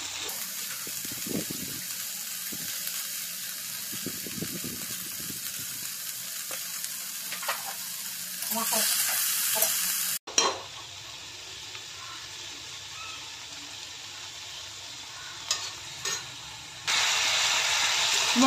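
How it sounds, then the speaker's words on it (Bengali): Okra and ridge gourd fry with spices in a pan, a soft steady sizzle with occasional scraping stirs, then a louder burst of frying near the end. "মশলাটা দিয়ে কিন্তু ভালো করে কষাতে হবে, যতক্ষণ না সবজিগুলো একটু গলা গলা টাইপের হয়ে আসছে না ততক্ষণ ভালো করে কষাতে হবে"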